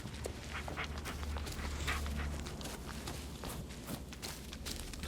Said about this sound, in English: Another dog.